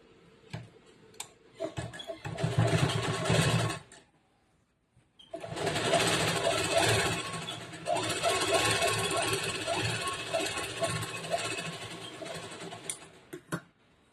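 A sewing machine stitching a princess-cut, boat-neck blouse runs in two bursts, a short run then a longer steady whirring stretch, with a pause and a few clicks between them.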